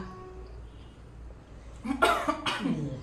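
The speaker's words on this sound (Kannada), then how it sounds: "ನೋಡಿ ಕೆಮ್ಮು ಬಂತು ಅಷ್ಟು ಖಾರ ಇದೆ" A person coughs twice in quick succession, close and sharp, after eating spicy Korean food, over a quiet room background.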